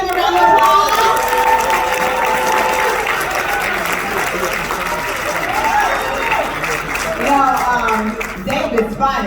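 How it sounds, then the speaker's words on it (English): An audience at a Hyperverse event in a Crowne Plaza hall applauds VIP board members: loud, sustained clapping from a sizeable crowd, mixed with cheers and whoops and some voices rising over the clapping. "Give them a round of applause."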